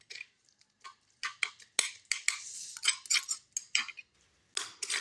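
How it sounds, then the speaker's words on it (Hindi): Coriander chutney stirred with pepper and salt, a spoon clinking and scraping against the bowl in short irregular bursts with brief pauses, close and fairly crisp with no talk. "और फिर इसे अच्छी तरह से मिक्स कर लें।"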